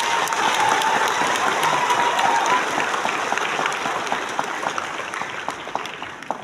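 A crowd claps together, dense and fairly close at first, then thins into scattered, trailing claps as it gradually fades.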